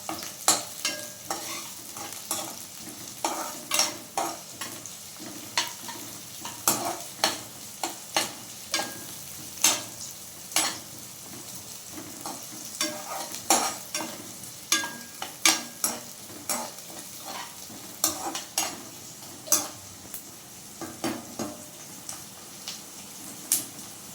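Suvarotti, a spleen fry, sizzles in a pan while a metal spoon stirs it continuously, giving a long run of rhythmic scraping clacks over a steady fry hiss. The sound is close, with no talking.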